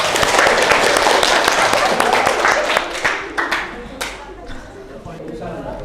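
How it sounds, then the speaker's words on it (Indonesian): A classroom of students claps in applause, a dense burst of hand claps that thins out over several seconds, with chatter and a teacher's voice around it. "Tepuk tangan dong."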